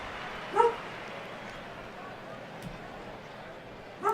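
Short dog barks, two brief yips about four seconds apart, heard over a steady murmur of talk and crowd noise while a baseball management game plays in the background.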